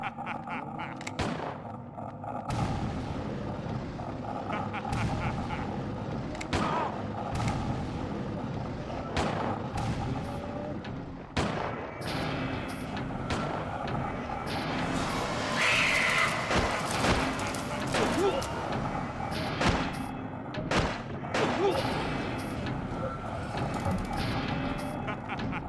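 Gunfire in Silent Hill 4, scattered sharp shots and mechanical clanks spread across a tense stretch, mid-loud, with occasional talk in between.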